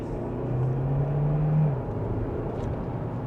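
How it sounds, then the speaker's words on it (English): 2025 Hyundai Tucson Limited Hybrid accelerating in sport mode, second gear: a low steady engine drone and road rumble from inside the cabin, swelling briefly as it pulls then easing back, with no talking. "And with a mild acceleration, we're up to speed."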